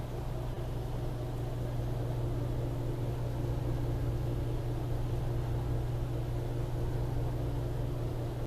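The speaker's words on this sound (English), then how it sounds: "you can clearly hear how the motor is running right now" A HeatStar 5000 BTU garage heater's motor runs in a steady, fairly quiet drone with a low hum, continuous and even throughout with no talk over it.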